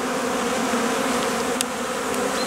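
Honey bees buzz around their hive on a February cleansing flight, a dense continuous hum of many insects close by with no voices.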